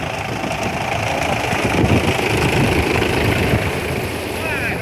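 A tractor engine runs steadily at close range on a flooded road, a constant low rumble and drone without pause, with voices faintly audible over it.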